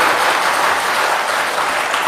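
A large audience at a spiritual darbar gathering claps continuously, a steady dense wash of many hands with no pauses.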